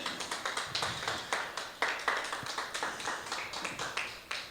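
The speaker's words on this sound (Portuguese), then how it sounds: "pode aplaudir bem forte ao Senhor Jesus" A church congregation claps hard, in a rhythmic and unified pattern with sharp, regular beats that repeat steadily and fairly close.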